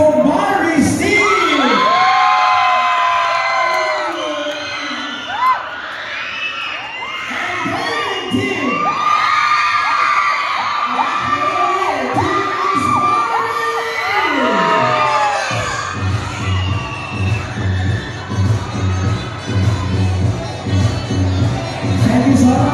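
Loud crowd of fans at a Kapuso Fans Day event, Barbie Forteza's team, cheering, screaming and shouting with high children's yells, sustained throughout, shifting into rhythmic clapping and chanting near the end.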